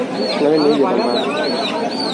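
Pigeons coo at a busy pigeon market. Soft, wavering coos sit beneath steady nearby talk and crowd noise.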